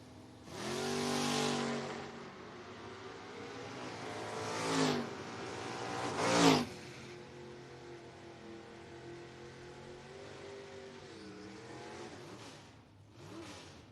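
A 70 Duster and a 93 Mustang launching side by side in a footbrake drag race, engines roaring and revving loud through several upshifts, then trailing off into a lower distant rumble.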